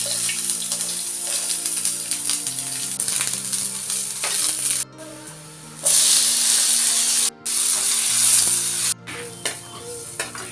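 Chopped onions frying in oil with cumin, coriander powder and ginger, a loud bright sizzle and crackle that rises sharply at times, with brief silent cuts and a low background hum.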